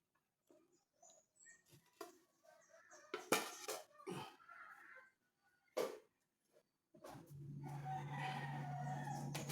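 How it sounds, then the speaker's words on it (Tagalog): Chickens at a small backyard coop crow and cluck in short bursts at moderate distance, with a steadier broadband outdoor noise and hum filling the last couple of seconds. "pupunta na po tayo sa labas sa ating munting manukan"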